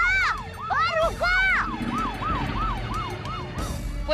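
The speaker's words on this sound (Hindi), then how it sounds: "मतलब मैंने अपने मोबाइल से पुलिस की सायरन बजाई थी।" A police siren played from a mobile phone wails in rising and falling sweeps, first in a few long swoops and then in faster repeated cycles, loud and close with no talking.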